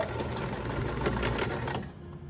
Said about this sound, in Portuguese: passar um pé de máquina aqui